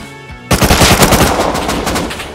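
Loud, close automatic gunfire in the video game Rust bursts out after a brief quiet moment, a rapid rattling string of shots that fades slightly toward the end.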